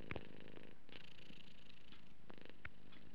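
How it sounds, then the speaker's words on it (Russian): A cat purrs steadily and softly up close, a continuous low rumble with a few brief sharper sounds near the start. "Урчание кота"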